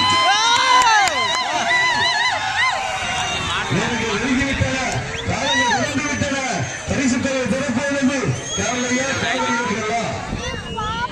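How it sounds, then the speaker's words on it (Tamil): Spectators roar and cheer at a jallikattu bull-taming event, a dense, loud crowd of shouts and whistles filling the whole stretch with no break. "பார்வையாளர்கள் உற்சாகப்படுத்துங்கள்"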